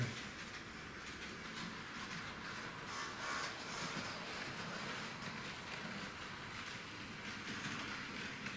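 A model shunting locomotive, a Roco DB class 211 or 151, creeps slowly along the track, producing a faint, steady whirring motor hum and light rail rattle throughout, with no talking.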